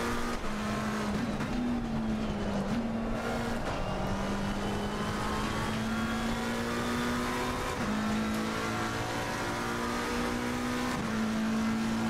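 A Ferrari race car engine in the ACC racing game howls continuously at high revs, rising and dipping through gear shifts as it attacks corners, loud and up close with no talk.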